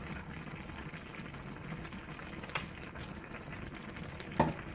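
Tteokbokki simmering in a covered pot over medium heat gives a steady low bubbling hiss, with a sharp clink near the middle and a brief rattle toward the end, and no talking.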